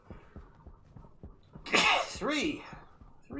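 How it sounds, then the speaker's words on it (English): Three sneezes from one person in quick succession, sharp and loud against a quiet background, the last two close together. "3 sneezes."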